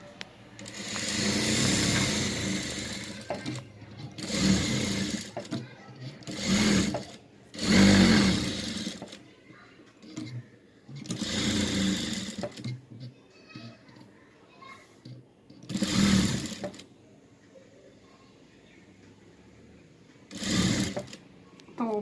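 A sewing machine running a top-stitch in several whirring bursts of a few seconds each, close and fairly loud, stopping and restarting between runs, with a voice speaking at times.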